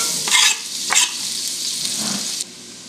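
Steady, close sizzle of a whole head of chopped garlic frying in butter and a little olive oil, with a couple of stirring scrapes early on before the hiss cuts off sharply.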